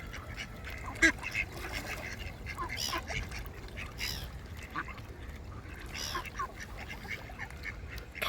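Ducks quack intermittently at a pond, a few nearby calls and soft honks scattered over a quiet outdoor background, with one sharper call standing out early.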